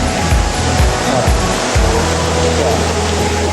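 Pagapeden Falls in General Nakar, Quezon, pours as a loud, close, continuous rushing roar of falling water, with brief voices mixed in early on.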